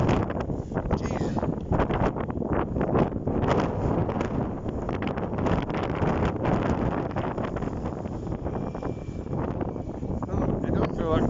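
Strong wind in a sand storm buffets the microphone with a constant loud roar and rumble for the whole stretch, gusts pushing through without a break.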